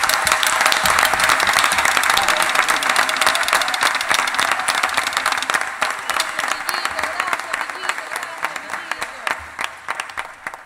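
Loud, dense applause from a theatre audience at the Teatro Guiniguada after a musician is introduced, steady at first then thinning into scattered claps over about ten seconds, with some crowd noise mixed in.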